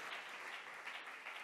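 Audience applause fills the hall at the opening of an economic inclusion summit: dense, steady clapping from a crowd, fairly distant and even throughout.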